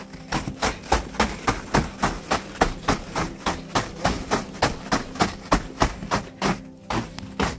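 Snow scraped with a plastic for-sale sign outdoors: a steady run of about two dozen sharp, loud scrapes at an even rhythm, close by, with no talking.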